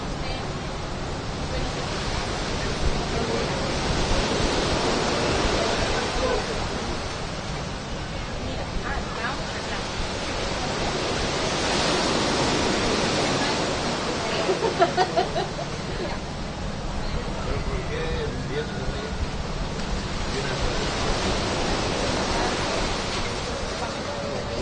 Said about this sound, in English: the waves sound so relaxing